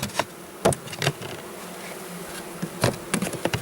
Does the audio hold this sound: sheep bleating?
no